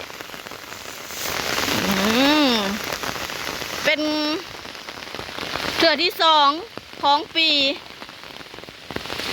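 Heavy storm rain falls steadily through the night, drumming continuously while a person talks over it at intervals.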